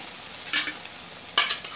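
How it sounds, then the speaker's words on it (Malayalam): Tomatoes sauté in a pan for chicken piralan, giving two short bursts of sizzle and stirring scrapes over a quiet background. "ഇപ്പോൾ ഇവിടെ തക്കാളി എല്ലാം ഒന്ന് വഴന്ന് വന്നിട്ടുണ്ട്."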